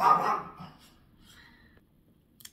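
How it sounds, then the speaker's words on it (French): A dog yelps or barks once, close and fairly loud, then trails off into a quieter whimper, with faint rustling afterward and no talking. "le chien va rejapper."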